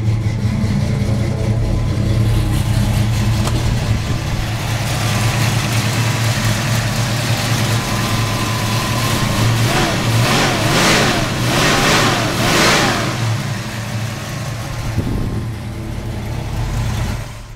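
A 1971 Ford Mustang Mach 1 engine rumbles steadily at idle, then revs up in several rising bursts around the middle before settling back to a loud, close, continuous idle, with no voices.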